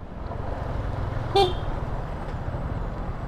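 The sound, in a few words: stock motorcycle horn honking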